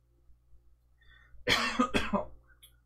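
A short, harsh cough of two bursts after tasting a sharp beer, close and loud, following a moment of near silence.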